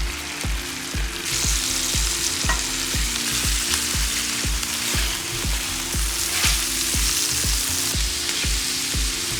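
Steak sizzling loudly and steadily on a Blackstone flat-top griddle for hibachi-style cooking, a dense, bright crackle with a regular low thumping underneath, close and continuous, no talking.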